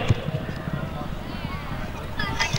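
Arabian horses galloping at a tent pegging championship in Lahore, rapid thudding hoofbeats close by under a continuous commentator's voice.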